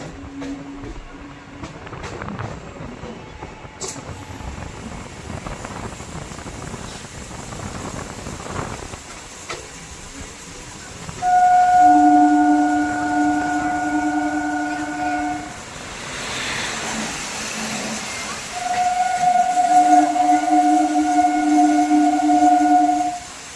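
An Indian passenger train with a shared rake passes close by, hauled by a WP7 locomotive, sounding two long, loud horn blasts over the rumbling clatter of wheels and coaches.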